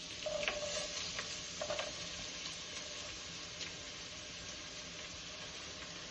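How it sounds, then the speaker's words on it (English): Onions sautéing in a pan over low heat for tomato soup give a steady, fairly faint sizzle, with a few brief stirring scrapes near the start. "now just saute this for 30 minutes on low heat so your onions become caramelized"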